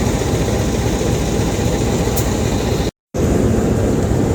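A CC 201 diesel locomotive idles nearby at a station, a loud, steady low rumble with a brief dropout partway through, and no voices.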